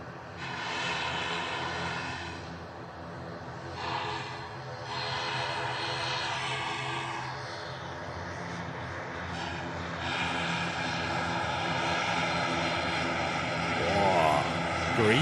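A Ryanair jet airliner arriving from Prague lands at Manchester Airport, its engine roar steady and rising toward the end, heard from a distance with people talking over it.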